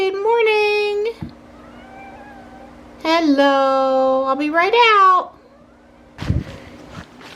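A feral cat gives two loud, drawn-out meows close by, one about a second long and a second stretching over two seconds, then a person speaks briefly.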